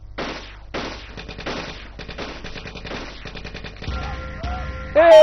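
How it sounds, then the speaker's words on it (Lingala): Rapid bursts of automatic gunfire in a Nigerian film, several sharp rattling volleys in quick succession, loud and close, ending in a mix of other effects. "Eh, nani abeti lisasi?"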